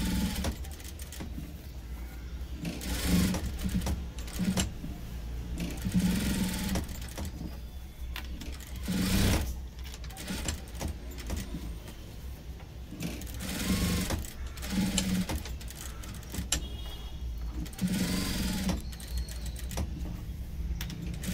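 Sewing machine stitching hooks onto a blouse, running in repeated short bursts of rapid mechanical clatter separated by brief pauses, close and fairly quiet.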